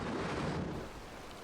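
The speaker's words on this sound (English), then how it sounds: "torrential rain now turned the battlefield into a quagmire" Torrential rain falls on a wartime battlefield on Okinawa as a dense, steady roaring wash with a low rumble beneath, easing slightly toward the end, with no voices.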